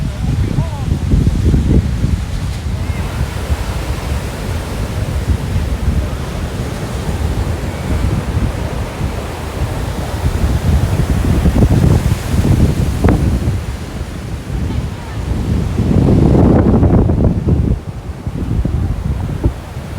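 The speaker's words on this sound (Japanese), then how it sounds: "いや結構ね波強いですね。" Strong ocean waves break and surge on a Hamptons beach, with a loud continuous roar of surf and heavy wind buffeting the microphone, rising in repeated swells.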